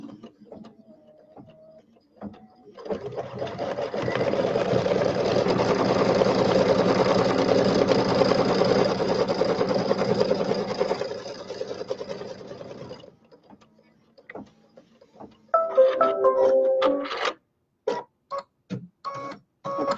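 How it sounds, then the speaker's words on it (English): An embroidery sewing machine stitches a tacking line with a steady, rapid mechanical hum and needle chatter for about ten seconds, then stops, followed by clicks and short bursts of machine movement. "the next step is going to stitch this down along here, just a tacking line so that it won't flop around on us"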